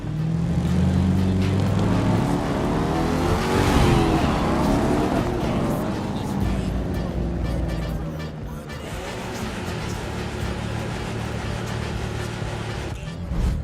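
A race car engine roars in The Crew 2 video game, loud and close, its pitch sweeping up and down as it revs before settling into a steady drive.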